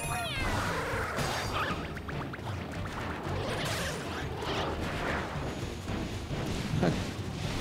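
Cat meows from the cat bell power-up in Super Mario 3D World, a high chirpy meow at the start over dense, loud game music and effects that fill the whole stretch.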